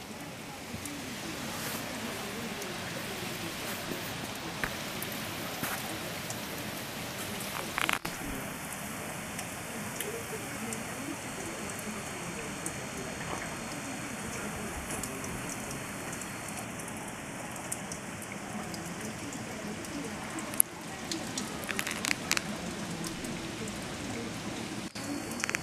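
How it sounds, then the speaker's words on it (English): Steady rain falls outdoors on a morning near a dog kennel, a continuous even hiss with a faint high tone partway through and no voices. "Raining, but really, really nice."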